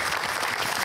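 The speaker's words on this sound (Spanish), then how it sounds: "Fuerte aplauso para ella." Dense clapping from a crowd, loud and continuous, a short burst of applause with no voices standing out.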